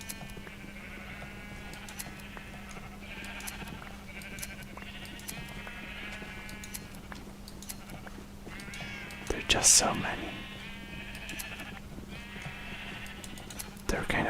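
In a video game, sheep are sheared and repeatedly bleat in wavering cries that overlap, close and fairly loud, while a soft voice talks under them and a sharp click cuts through midway.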